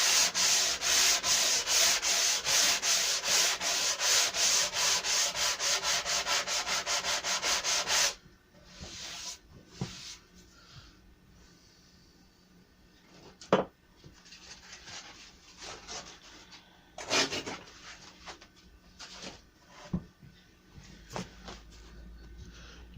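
Wood sanded by hand with a folded sheet of 80 grit sandpaper: rapid rhythmic rasping strokes, close and loud, stop abruptly partway, followed by scattered softer rubs and brief scrapes.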